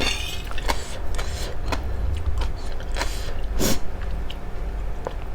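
Crisp, close chewing and biting while eating papaya salad with black crab sauce and bitter gourd, a run of crunchy bites and mouth noises with no talking.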